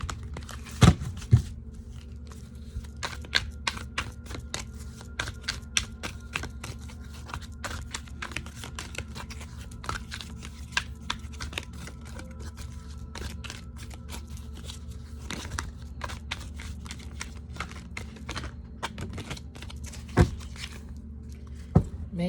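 A deck of cards being shuffled by hand in a series of soft, irregular riffles and crisp snaps spread across the stretch, close and fairly quiet, with brief bursts of talk now and then.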